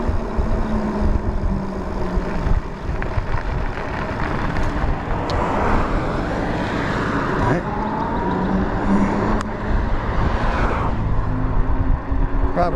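A car overtakes a rider on a Jasion Hunter Pro ebike, its engine and tyre roar swelling and fading over continuous road and wind noise, passing close by in the middle of the clip.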